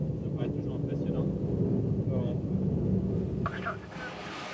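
A loud, steady low roar of an airplane landing fills the scene, with faint voices underneath and a rattling shift near the end.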